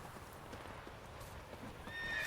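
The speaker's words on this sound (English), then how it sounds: "Horses." A horse whinnies while hooves clip-clop nearby, a short burst of sound effects from a Witcher video game with a rising neigh at the end.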